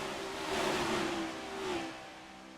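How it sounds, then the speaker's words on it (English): A race car in a racing game fires back up after a spin and revs, with a steady droning engine note that swells and rises in pitch, then eases off, heard fairly close. "Chris will get the car fired back up."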